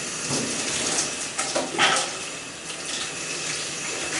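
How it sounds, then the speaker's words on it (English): Water runs steadily from a tap into a sink for rinsing trumpet parts, a close, continuous hiss with small splashy surges and no speech. "I'll get a little water going for us here"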